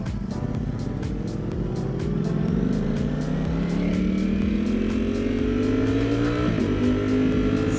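Custom Ducati Streetfighter motorcycle riding past, a loud, steady engine note that climbs in pitch as it accelerates, with a brief gear-change dip near the end and no talk.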